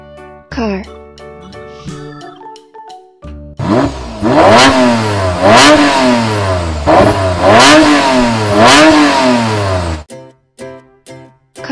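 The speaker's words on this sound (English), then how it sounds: "Car. Car." A car engine revs in four repeated rising-and-falling surges, loud and close, framed by short tonal sounds at the start and end.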